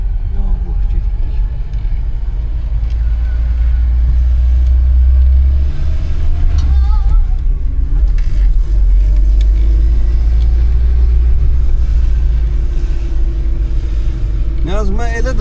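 A VAZ 2106 Soviet car drives along with a loud, steady low engine and road rumble filling the cabin, while people talk intermittently inside.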